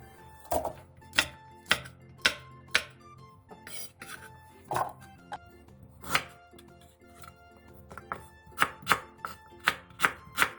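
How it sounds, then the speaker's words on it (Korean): A knife chops apple, red chili and ginger into large pieces on a cutting board, giving sharp, close, irregular thuds in bursts with short pauses and quicker clusters toward the end, without any talk. "사과 4분의 3개, 홍고추 6개, 생강 한 토를 큼직하게 잘라 믹서기에 곱게 갈아주세요."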